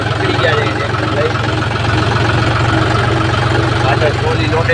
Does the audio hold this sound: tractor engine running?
yes